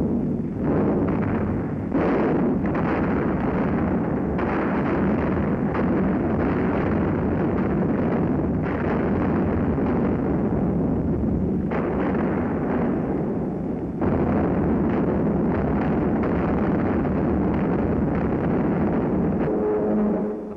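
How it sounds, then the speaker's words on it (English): Dense, continuous booming and blasts from bombers striking coastal installations during the Normandy invasion roll on with heavy rumble and scattered sharper bursts. "Day bombers blast coastal installations, continuing the heavy attacks of the night before."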